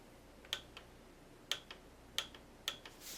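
A torque wrench clicks during a Suzuki GSXR water pump install: four sharp, close metallic clicks spaced roughly a second apart over a quiet background.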